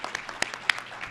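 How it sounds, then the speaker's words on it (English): Brief scattered clapping from the audience at an HHS Senior Executive Service oath and award ceremony, honoring an honor guard and anthem singer, just a few sparse claps. "a round of applause."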